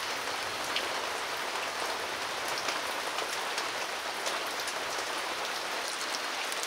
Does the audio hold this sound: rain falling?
yes